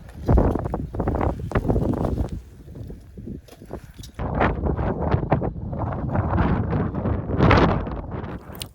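Strong gusting wind buffets the microphone on a snowy mountain ridge with large snow cornices, roaring in loud uneven surges with brief lulls, alone without talk.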